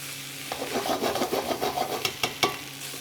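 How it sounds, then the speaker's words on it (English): Lamb, vegetables and tomato paste fry in a pan, a steady soft sizzle and scraping as the mixture is stirred, with a few sharper clinks of the utensil near the end. "you'll hear the sound of the pan completely change because all the liquids will be coming out of the tomatoes"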